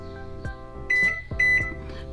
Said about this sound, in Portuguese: E vou ligar o micro-ondas e vou colocar aqui, ó,